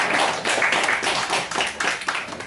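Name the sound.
audience clapping to welcome a pastor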